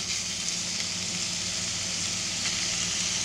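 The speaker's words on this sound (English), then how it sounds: "You hearing that sizzle?" Ground beef sizzles loudly and steadily in a hot pan, a constant crackling hiss with no talking.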